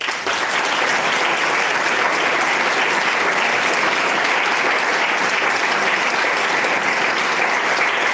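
A large auditorium crowd at a Partido Popular candidacy presentation in Béjar applauds a speech with dense, sustained, loud clapping that holds steady for about eight seconds without talk.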